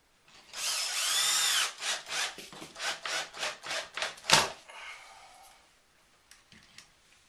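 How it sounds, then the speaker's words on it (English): Power drill driving screws into a drywall patch piece, a loud close whine that rises, then pulses in a run of short revving bursts before stopping, followed by quiet handling. "we can just put a couple of screws in there"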